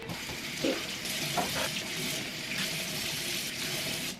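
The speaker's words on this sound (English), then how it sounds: "I'm actually gonna wash these because the bottle's kind of dirty." Tap water runs steadily at a bathroom sink while dirty bottles are washed, a close continuous splashing hiss with faint clinks of handling.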